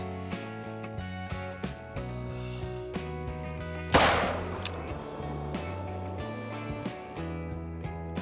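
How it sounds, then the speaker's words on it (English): In the hunting game theHunter: Call of the Wild, a single scoped rifle shot cracks sharply midway and decays into a rolling echo, set against a steady background of soft melodic music notes. "So I utilized the scope and took my shot at 78 meters."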